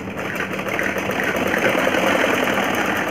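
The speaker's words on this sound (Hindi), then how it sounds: "यहाँ पर मैं नीचे की साइड डबल सिलाई लगा देती हूँ" Domestic sewing machine running steadily to put a double line of stitching along the underside of fabric tucks, a continuous close whirring hum with no talk over it.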